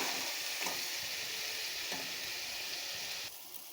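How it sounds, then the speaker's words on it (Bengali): Onion paste sizzles steadily in hot oil for prawn malai curry, a loud, even frying hiss with occasional stirring scrapes, dropping slightly in level near the end, no voices. "পেঁয়াজ বাটাটা দিয়ে সুন্দর করে ভেজে নেব আমি।"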